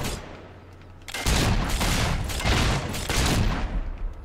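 Rapid gunfire while shooting Balverines in the video game Fable 3, loud dense bursts of shots rattling in quick succession for several seconds after a quieter lead-in.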